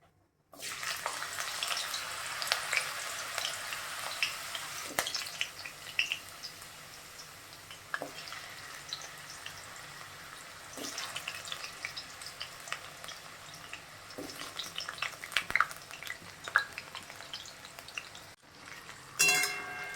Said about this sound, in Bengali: এবার আমি আলুগুলো এক এক করে দিয়ে ভেজে নেবো